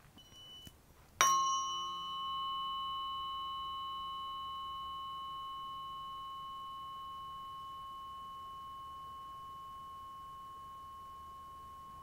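A struck tuning fork pair tuned to 89 and 144 hertz rings out after a soft tap and sustains a clear, steady tone that slowly fades over several seconds.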